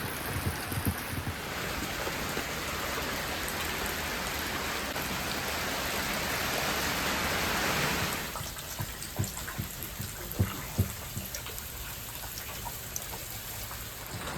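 Steady rain pours down for about eight seconds, then eases into scattered, sharper drips and splashes on a nearby surface.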